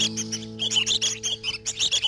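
Red-whiskered bulbuls in captivity, some of them sick, give a quick series of bright chirping calls, close and fairly quiet over a steady low hum.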